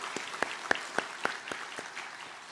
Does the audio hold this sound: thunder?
no